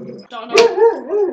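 A man imitates a dog barking with his voice, giving a short, gruff, drawn-out vocal bark with a rising and falling pitch, close and fairly loud with a breathy burst at its start.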